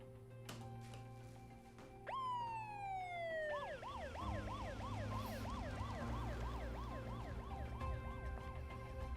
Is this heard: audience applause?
no